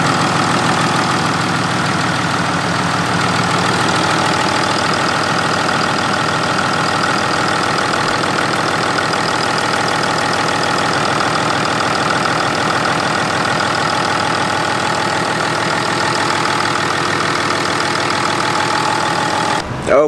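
A car engine runs steadily after fuel line work, a close, continuous idle at an even level for about twenty seconds, cutting off abruptly at the end.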